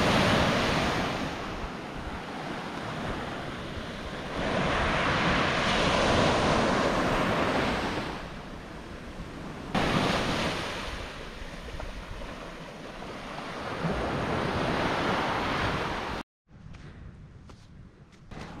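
Ocean surf washes in steady, broad rushes with wind buffeting the microphone, swelling and easing in long waves before a brief drop near the end.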